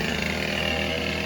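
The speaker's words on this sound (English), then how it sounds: "As you can hear, the chainsaw is back." A chainsaw runs steadily in a yard during tree work, a loud, close, buzzing engine drone held without pause and no talk over it.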